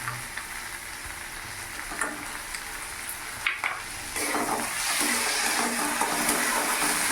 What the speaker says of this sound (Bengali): আর একবার ভালো করে নাড়াচাড়া করে নেব